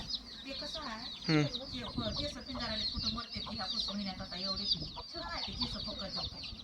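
Free-range village chickens cluck and squawk close by, several birds calling over one another in a busy, continuous flock with low background noise.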